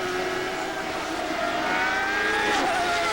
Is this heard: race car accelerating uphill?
yes